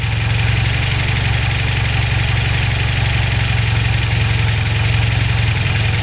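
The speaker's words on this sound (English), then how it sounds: "So we'll just get them fired up, get it to idle" A car engine fitted with SU carburettors idles steadily and loudly at close range, an even low rumble with a faint rhythmic beat and no talking.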